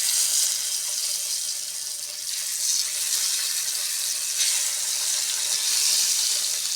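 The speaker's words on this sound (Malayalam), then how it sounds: "ഞാൻ എഗ്ഗ് ഒന്ന് ഫ്രൈ ചെയ്തെടുക്കാം." Egg fries in a pan for an egg curry, giving a steady, close hiss of sizzling oil that holds throughout with slight swells in intensity.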